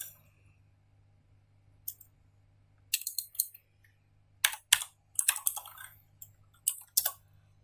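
Bursts of typing on a computer keyboard, keys clicked in quick irregular clusters separated by short pauses, close and crisp against a quiet background with a faint low hum.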